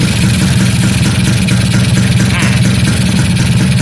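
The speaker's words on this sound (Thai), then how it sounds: "ตอนนี้เครื่องยนต์เดินเบาอยู่ประมาณนี้" A Kawasaki GTO 125 two-stroke motorcycle idles close by, its loud, steady buzzing putter holding an even beat throughout with no talk over it.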